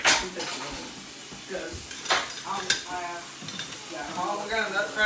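Meat browning in a pan with an old metal tool, sizzling steadily while the utensil scrapes and clinks against the pan, loud and close, with voices talking intermittently.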